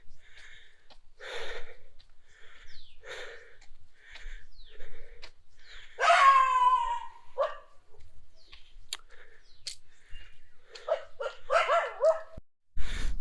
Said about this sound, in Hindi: अब ये रास्ते में कुत्ते कुत्ते बहुत ज़्यादा हैं, कुछ भरोसा नहीं कब भौंकना शुरू कर देते हैं।